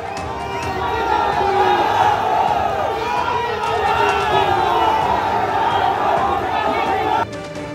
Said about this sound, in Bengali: একে অপরের বিরুদ্ধে স্লোগান তুললেন তৃণমূল ও বিজেপির কর্মী সমর্থকরা